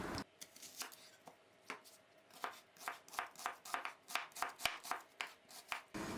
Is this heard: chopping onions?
yes